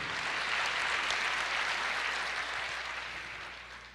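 Applause rises from a church congregation during a Portuguese-language sermon, a dense, even clapping that starts full and gradually fades toward the end without any voices on top.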